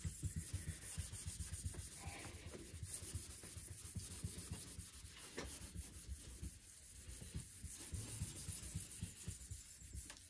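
Rhythmic hand strokes rub across a moistened surface on a Mercedes CL500, producing close, repeated scratchy swishes like sanding, steady throughout with no talk.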